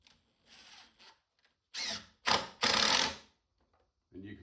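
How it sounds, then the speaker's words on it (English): Power driver sinking screws into clamped wood while building a goat hay feeder: three loud, grinding bursts of under a second each, with softer handling noise and possible low talk before them. "just get those screws where they're just in the starting hole. And just screw them in."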